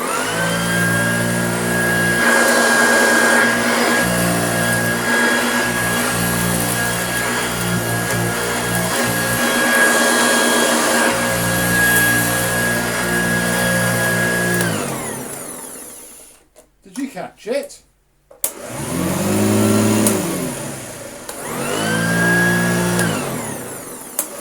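A refurbished Hoover vacuum cleaner drones steadily and loudly with a high whine, cuts out briefly with a few sputters, then roars back up to full power.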